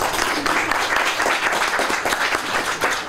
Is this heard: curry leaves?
no